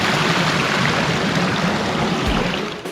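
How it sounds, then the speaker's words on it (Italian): A small stream on a Sardinian mountain trail near Monte Limbara rushes and splashes as a motorcycle crosses it, giving a close, continuous hiss of running water. "ora attraversiamo questo piccolo ruscello."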